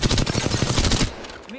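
Rapid automatic gunfire from Apex Legends, the Grand Soirée event, crackles in a dense, loud burst for about a second, then cuts off, leaving quieter game sounds.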